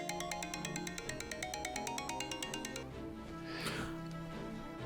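An incoming call sets a phone's ringtone chiming in a fast, regular melodic pattern for about three seconds, after which it cuts off under a swelling background tone.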